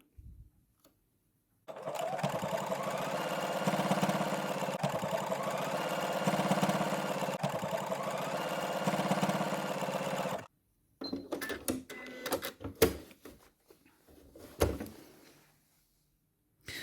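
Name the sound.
sewing machine stitching a buttonhole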